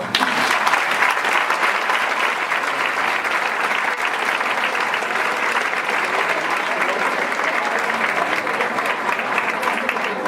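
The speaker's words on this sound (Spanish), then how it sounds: "vamos a darle un fuerte aplauso" A large audience in Molina de Segura, Murcia, applauds author Dolores Redondo at a literary event, a thick, continuous roar of clapping that stays loud and uniform for the whole stretch.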